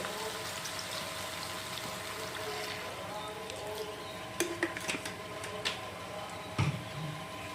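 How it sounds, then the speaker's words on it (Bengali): Water is poured into chicken curry cooking in a pot, a steady watery rush with a few sharp clinks of utensils against the pan near the end. "আর এখন দিয়ে নেব পরিমাণ মতো জল।"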